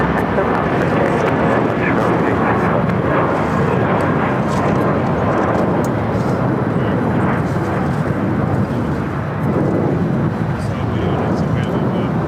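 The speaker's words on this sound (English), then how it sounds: "That takeoff was Spirit Airlines 865 taking off to Reno on the A320" A Spirit Airlines Airbus A320 takes off with a loud, continuous jet roar that stays steady throughout. Wind buffets the microphone, and a voice talks over the engines.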